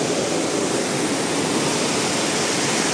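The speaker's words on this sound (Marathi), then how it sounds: "बघा काही धबधबा इकडून पण एक आहे" Arjunkada waterfall at Kharghar: a steady, dense hiss of falling water, even and fairly close, with no voices or other breaks.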